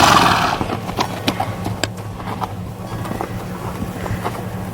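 A horse moves about outdoors on a farm, soft hoof thuds and shuffles sounding close and scattered, with wind noise over the microphone and no talk.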